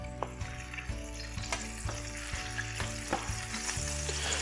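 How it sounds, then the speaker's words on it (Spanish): Prawn tails frying in hot oil, a loud, steady close sizzle broken by repeated clacks and scrapes of stirring. "Cuando el aceite está caliente, añadimos las colas de langostino."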